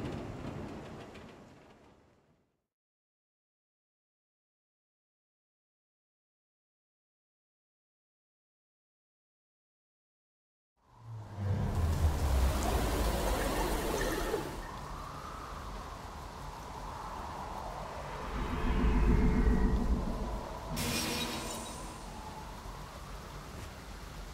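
Rain in the video game NieR Reincarnation comes in after a long silence as a steady, dense wash, swelling louder partway through with a low rumble beneath.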